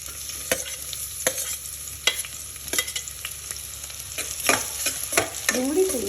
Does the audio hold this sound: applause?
no